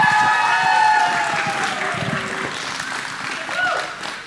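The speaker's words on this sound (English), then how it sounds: "One more round of applause for Ezekiel." An audience at a Hanukkah talent show applauds a performer with a steady wash of clapping and light crowd noise. Sustained tonal sounds, like music or voices, run over the applause.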